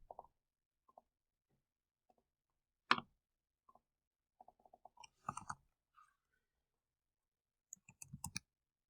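Scattered key clicks from a computer keyboard while typing into a spreadsheet control, arriving in short irregular bursts with quiet gaps between them, close up and fairly soft.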